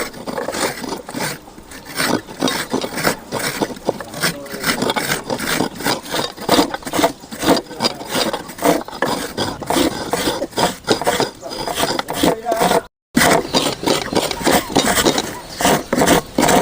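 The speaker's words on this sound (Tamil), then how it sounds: "நாலு மூடி தேங்காயுமே சுரண்டி எடுத்துக்கலாம்." Rhythmic rasping strokes of coconut halves being scraped to make coconut milk for halwa, a steady, close, dense scratching that runs on with only a brief pause.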